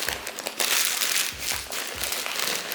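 A plastic bread bag is crinkled and twisted by hand as its top is wrapped closed, giving close, bursty rustling and crackling in several quick waves with no talking.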